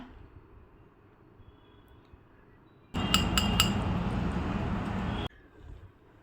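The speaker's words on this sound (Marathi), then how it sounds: "या पाकाचा असा टणटण आवाज आला पाहिजे" Hardened jaggery syrup for sesame chikki clinks sharply against a plate or glass, a few bright ringing taps over a loud burst of handling noise, close and without talk.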